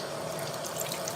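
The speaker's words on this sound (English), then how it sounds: "I'm gonna spray it with this like braid elixir stuff that I got" Hair refresher braid elixir sprayed from a bottle onto braided hair outdoors near water, a steady continuous hiss of mist lasting about a second, close and fairly quiet with no talk.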